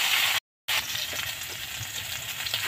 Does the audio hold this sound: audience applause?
no